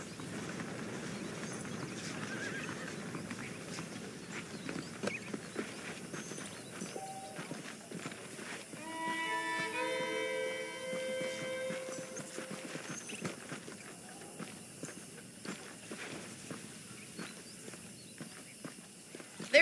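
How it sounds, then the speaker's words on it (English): Horse hooves clip-clopping at a steady walk in the Red Dead Redemption remaster, close and moderately loud under layered game ambience and a musical cue, with no clear neigh standing out. "I picked out a fine horse for you."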